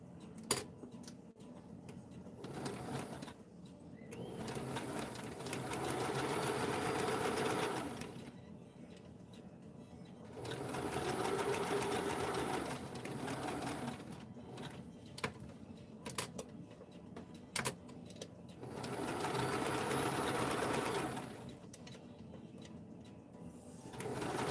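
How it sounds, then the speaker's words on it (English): A sewing machine runs down the cover of a padded dress form in three separate bursts of steady, fairly quiet stitching, with short pauses and small handling clicks between them. "I'm just going to see what happens if I take a stitch all the way down."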